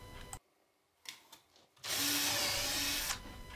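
A power drill bores pilot holes in wood for a router fence extraction box on a Bosch GTS 10 XC table saw: a short burst, then quiet handling, then a loud sustained whine of drilling before it tapers off.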